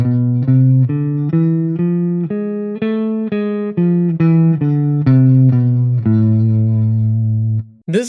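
An electric guitar with effects plays the A harmonic minor scale over one octave, note by note, eight or so even steps rising and falling, ending on a long held note, loud and clear.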